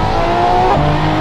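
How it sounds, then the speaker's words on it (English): LaFerrari hybrid sports car on track day at the Spa circuit, its engine droning loudly and steadily with a brief shift in pitch partway through, heard close from onboard with no talking. "Got my LaFerrari here."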